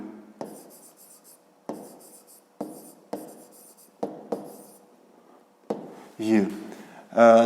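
Numbers written by hand with a pen on paper for a fifth-grade maths exercise: a series of short scratchy strokes in separate bursts, close and distinct, with a voice speaking at the end.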